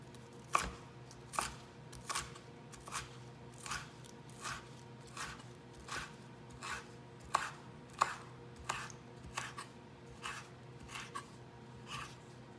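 Knife chopping green onion leaves on a board for a salad, a dozen or so crisp, separate cuts at a slow, slightly uneven pace, close and fairly quiet over a faint hum.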